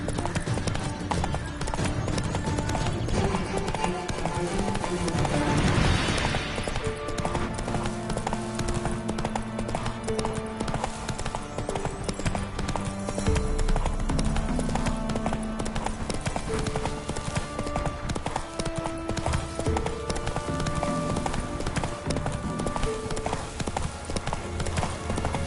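Roach, the horse in The Witcher 3, galloping through Velen: continuous, rhythmic hoofbeats close by for the whole stretch, with a steady game soundscape layered underneath.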